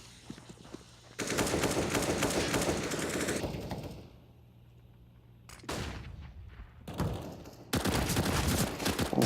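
Rifle gunfire in Counter-Strike: Global Offensive, with long sustained automatic bursts separated by a short quiet gap and then a sharp return to heavy firing.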